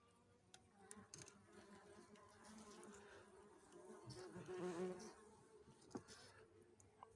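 A honey bee colony at an apiary hive buzzes steadily, a dense continuous hum that swells briefly midway, with no talking.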